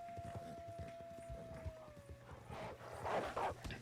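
Hooves of an American Paint horse clip-clop in Red Dead Redemption 2, a quick run of close, distinct hoofbeats under a faint sustained tone, followed by a couple of louder bursts near the end.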